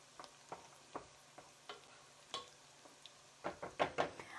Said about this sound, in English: I'm going to give the sauce a stir